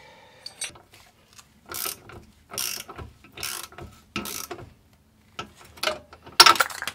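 A ratchet clicks in several short, quick bursts while bolts are tightened on a Mercedes 190E during tuning work, the bursts close and separated by brief pauses with no speech.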